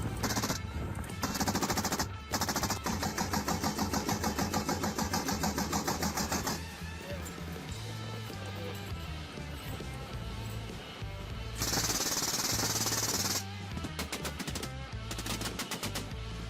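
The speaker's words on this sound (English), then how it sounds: "We prepared an armored vehicle, a 6-barreled M134 machine gun." Six-barreled M134 minigun fired from an armored vehicle during wild boar control on a farm: loud, dense sustained bursts of rapid fire with a brief pause and a harsher stretch near the end, close and continuous.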